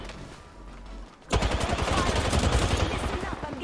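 Rapid gunfire in a video game bursts in loudly after a quiet second, a dense rattling fusillade of repeated shots that continues to the end.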